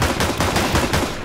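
Rapid bursts of video game gunfire, loud and close, firing in a quick repeating rhythm of several shots over about a second with no talk.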